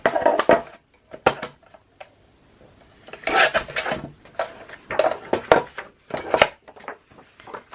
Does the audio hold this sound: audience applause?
no